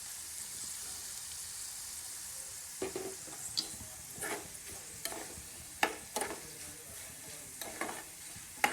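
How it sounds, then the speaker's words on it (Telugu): Curry leaves fry in hot oil for a chili pickle, a soft continuous sizzle broken by repeated scraping stirs and clinks of a spoon against the pan. "కరివేపాకు బాగా వేగనివ్వాలి"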